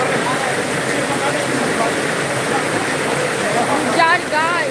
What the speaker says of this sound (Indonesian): Deras banget hujannya.